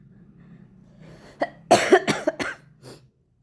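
A few close, hoarse coughs in a short burst after a quiet moment, trailing off into silence.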